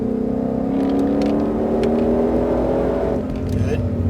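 A Ford Mustang Shelby GT500 on a race track gives a steady, loud engine drone with a pitch that rises and falls as the car drives through corners.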